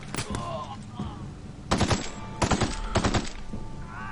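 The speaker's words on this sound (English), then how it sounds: "Oh, you can't dodge my bullets, mate." Gunfire in The Outer Worlds, several sharp bursts of rapid shots in clusters separated by short pauses, loud and close, with a voice heard faintly between them.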